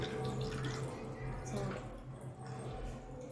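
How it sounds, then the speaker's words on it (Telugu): Squeezed tamarind juice poured by hand into a pot of fish curry, giving soft dripping and splashing liquid sounds over a steady low background hum. "ఆ రసం అనేది దీంట్లోకి చేపల పులుసులో పోసుకోవాలి ఇలా ఇలా ఇలా"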